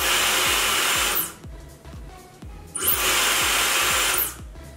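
A Dyson Supersonic hair dryer blows with a loud, steady whooshing roar, switching off briefly in the middle, where regular clicking taps are heard, then roaring again.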